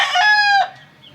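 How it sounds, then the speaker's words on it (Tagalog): A Batangas gamecock lets out a single short, loud crow close by, a bright sustained call that cuts off abruptly, with nothing else around it. "Mataas ang manok yan."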